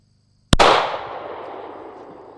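A single 9mm handgun shot at a target outdoors: one sharp, loud crack followed by a long, fading echo and rumble.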